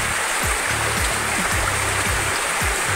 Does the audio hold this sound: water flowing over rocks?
yes